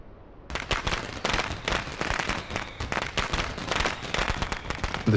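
Dense, rapid firecracker bangs crackle nonstop along a city street on New Year's Eve in a video game, loud and close, with overlapping pops and no clear pauses.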